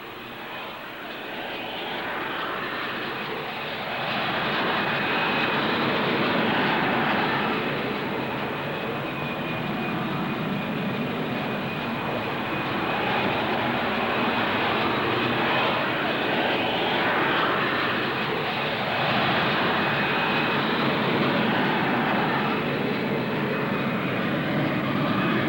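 A VTOL fighter with a Pegasus vectored-thrust engine performs at the Farnborough air show, a loud, sustained jet roar with a steady whining tone that swells and holds for the whole stretch, with no talk.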